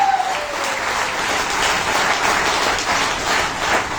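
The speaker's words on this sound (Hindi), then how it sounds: "जोरदार तालियां दोस्तों।" Loud, sustained applause from a crowd at a training session in Jaipur, many hands clapping together in a thick, continuous roar that holds steady throughout.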